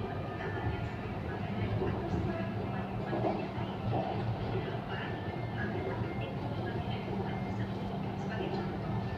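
A Kuala Lumpur MRT metro train runs between Kota Damansara and Kwasa Damansara with a steady, continuous rumble and rattle, while faint voices murmur in the background.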